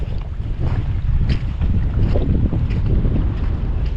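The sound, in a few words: strong wind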